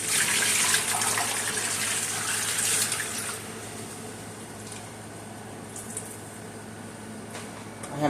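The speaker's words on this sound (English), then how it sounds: "I have my vegetables I'm rinsing" Vegetables being rinsed under a running kitchen tap, a steady broadband splash of water that is loudest at the start and eases slightly, with occasional squishy handling sounds and no talking.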